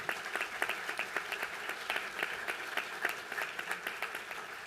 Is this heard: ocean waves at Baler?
no